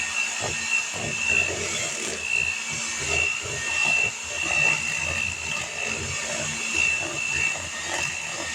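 An electric mixer whirs steadily through cookie batter for oatmeal cream pies, a continuous close hum with a faint hiss. Small rhythmic bumps run through it, and no one speaks.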